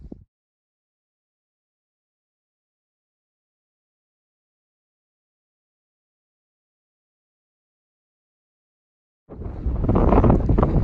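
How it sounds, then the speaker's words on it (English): Long silence, then heavy wind buffets the microphone in a loud, rumbling roar near the end, low and gusty, outdoors at Chessman Reservoir in Helena National Forest. "It's windy as fuck out here"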